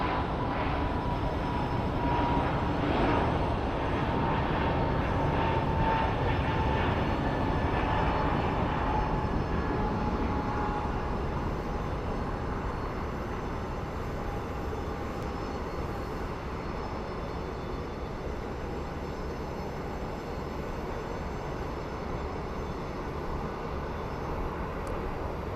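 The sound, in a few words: Frontier airliner taking off from Phoenix Sky Harbor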